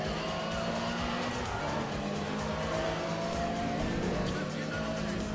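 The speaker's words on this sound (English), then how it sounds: "This sounds like a Lambo V12." A Lamborghini V12 rated at 640 brake horsepower roars in a racing video game, a loud, steady engine drone with tire squeal and skidding layered throughout, continuous for several seconds.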